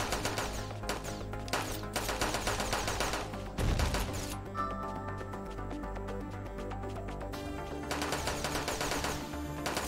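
Rapid machine gun fire in the Battle Cheems video game, with rattling bursts of quick shots broken by short gaps and one heavier crash, over a steady backdrop of game music.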